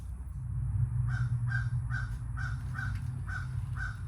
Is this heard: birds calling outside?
yes